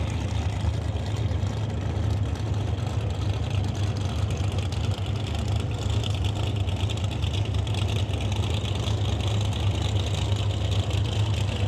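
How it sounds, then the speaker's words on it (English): Drag racing cars sit on the start line at a Mission, BC drag strip after their burnouts, engines rumbling in a steady low idle, loud and continuous without speech. "Next pair got the burnouts done."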